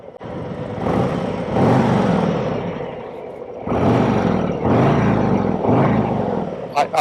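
A 2024 Harley-Davidson Road Glide with its stock exhaust revs up close in two long, loud bursts separated by a brief dip to idle.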